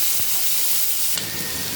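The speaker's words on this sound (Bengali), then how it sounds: "আলুগুলো ভেজে নিব।" Potato pieces fry in hot oil in a pan, a steady broadband sizzle and hiss running throughout, close and fairly loud, with a brief burst of stronger spitting partway through.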